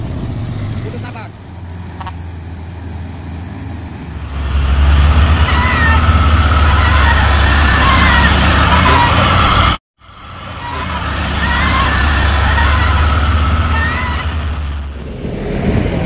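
Heavy trucks grind up the steep Bukit Kodok hill road, their loud engine roar rising and sustained, broken by a short cut, with someone talking over it.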